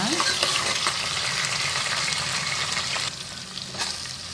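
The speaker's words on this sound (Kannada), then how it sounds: "ಸ್ವಲ್ಪ ಫ್ರೈ ಮಾಡ್ಕೊಳ್ಳೋಣ ಟೊಮೊಟೊನ" Tomatoes being fried in a pan for a vegetable bath dish, a dense, loud sizzle with brisk stirring scrapes throughout, easing slightly near the end, no talking.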